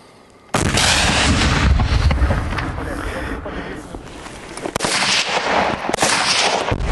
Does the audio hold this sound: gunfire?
yes